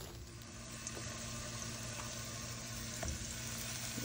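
Plant-based garlic and barbecue patties frying in hot oil, a soft steady sizzle with occasional pops, fairly faint and continuous with no talk.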